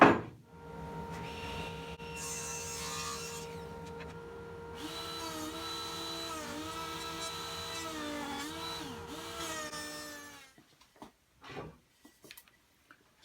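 Woodworking jointer and planer machining a board, a steady droning motor whine with shifting pitch and cutting noise lasting about ten seconds, then spinning down to quiet clunks.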